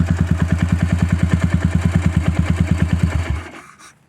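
A motorcycle engine fitted with a stainless steel header pipe idles close and loud with an even, rapid thumping beat, then cuts off abruptly, leaving a brief fading rattle.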